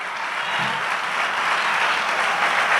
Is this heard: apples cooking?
no